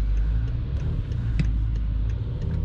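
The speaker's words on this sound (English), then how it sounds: "you just push the pedal and woo! Really accelerates." BMW X5 E70 3.0 SD diesel SUV with 286 HP, driven through the city: a steady, low engine and road rumble from inside the cabin, continuous and fairly even, with no voices.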